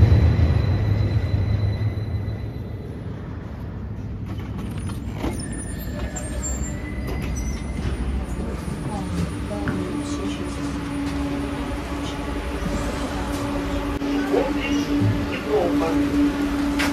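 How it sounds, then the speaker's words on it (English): A street tram in Volgograd, Russia, rumbles and hums as it pulls in, with low mechanical drone, squeals and hisses building over steady background noise. "Here comes the tram, the street tram."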